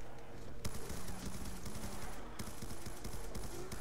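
Rapid automatic gunfire rattles in Black Ops 2 Zombies on the Buried map, with two loud bursts of shots over a constant, noisy game background.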